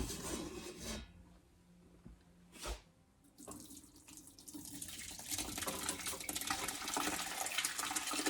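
Hot whey and curds poured from a pan into cheesecloth set over a larger pan while making lemon rosemary garlic farmer's cheese, a close, steady splashing stream of liquid following a few brief knocks.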